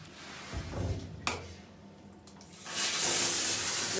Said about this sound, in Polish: Sprawdzamy ciśnienie pod prysznicem.